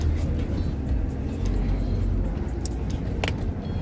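Riding inside a Porsche, a steady low engine and road rumble fills the cabin, close and constant throughout with a few faint higher sounds near the end.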